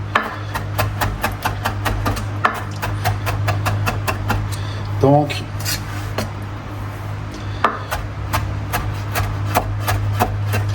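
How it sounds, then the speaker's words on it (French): Rapid, regular knife taps on a cutting board as herbs are finely minced for chimichurri, a brisk mincing rhythm, with a brief spoken word in the middle. "On continue à émincer."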